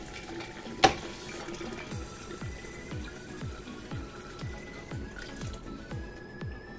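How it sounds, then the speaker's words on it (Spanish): Water is poured into a pot to cover preserving jars, a steady trickle and gurgle with a repeating, rhythmic sloshing pulse, close and moderately quiet, after a single sharp clink near the start. "Voy echando agua hasta cubrir."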